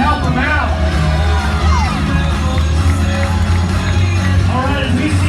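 A crowd at an athletic fitness competition cheers, whoops and yells continuously, loud and dense throughout, while an announcer talks over the noise.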